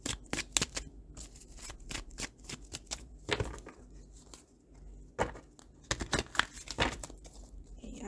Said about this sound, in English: I'm giving it a good shuffle.